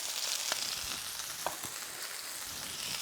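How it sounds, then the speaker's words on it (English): Shallots sizzle in a frying pan, a steady crackling fry with a few sharper pops and spits standing out, fairly quiet and close, with no talking. "that will continue to sizzle away"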